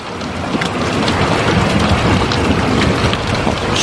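Severe warned thunderstorm with heavy rain pouring down steadily, gusty wind and low rumbling thunder blended into a loud, continuous wash, close and without speech.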